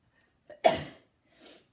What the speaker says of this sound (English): That was a sneeze.